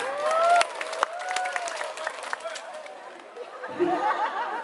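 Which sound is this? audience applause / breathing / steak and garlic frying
audience applause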